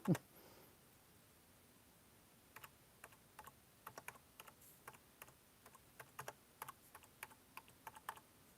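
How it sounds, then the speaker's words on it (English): Quiet, irregular typing on a keyboard with one hand: scattered single key clicks begin after a brief pause and come in uneven bursts against a faint room hush. "It's hard to type with one hand."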